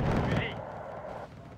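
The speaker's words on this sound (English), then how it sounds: "More artillery." Artillery fire in the war strategy game Wargame: Red Dragon, a heavy low boom at the start that rolls off into a rumbling tail, with talk faintly underneath.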